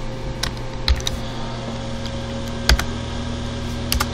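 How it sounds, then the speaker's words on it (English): Keys clack on a computer keyboard while code is typed, sparse taps in short clusters over a steady electrical hum, close and fairly quiet. "Let me just type this."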